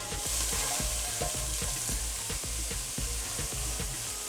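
Onions and dhania stalks frying with matumbo (tripe) in a wok, a steady loud sizzle running throughout with regular stirring scrapes and clinks of the spoon against the pan.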